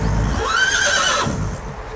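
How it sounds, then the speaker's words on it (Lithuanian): A white horse gives a single loud, close neigh, a rising then falling whinny lasting about a second and trailing off, with no talk over it. "žvengia"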